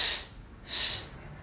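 Two sharp, airy breaths in a breathing exercise for pregnant women, done on a simple chair, each a short forceful hiss separated by a brief pause, close and clear with no talk.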